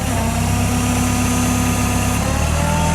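A serviced 1993 Komatsu FG25ST-11 forklift with 5000 lb capacity idles close by, its engine giving a loud, steady, low hum and vibration that stays even throughout, with no speech.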